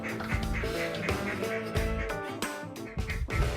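Ducks quack in scattered calls at a crowded duck hunting blind in Missouri, mid-distance, over a steady mix of music and murmuring voices.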